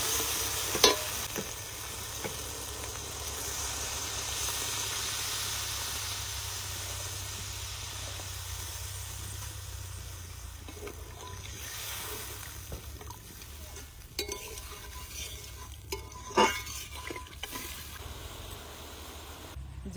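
Water poured into oil already sizzling with salt, turmeric and spice paste in a pan: a loud hissing burst at first that settles into a steady simmering hiss, with occasional stirring knocks near the end.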